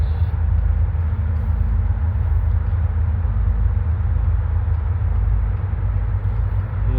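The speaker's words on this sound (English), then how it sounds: "This is an Indiana and Ohio train." An Indiana and Ohio freight train rolls past at Canal Ridge Road, a loud, steady low rumble and grinding roar that holds evenly close by for the whole stretch, with no voices.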